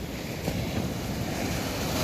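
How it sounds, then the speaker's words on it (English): Big sea waves surge and break on the shore at Clacton-on-Sea, a continuous loud roar of surf mixed with wind buffeting the microphone. "we are getting some big boy waves"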